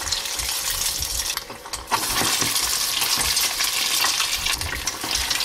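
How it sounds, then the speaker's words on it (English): Pieces of food coated in beaten egg fry in hot oil in a pan, giving a loud, steady sizzle with occasional crackles and a few soft scraping knocks. "fry it"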